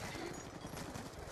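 Gunfire in a competitive Hardpoint video game match: rapid, rattling bursts of shots packed closely together, loud and continuous, with a voice faintly mixed in underneath.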